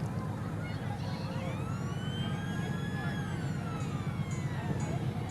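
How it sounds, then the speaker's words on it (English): Fire truck sirens wailing at a street parade, rising and falling tones sounding from a moderate distance over steady crowd and street noise. "Oh, I hear sirens in the background."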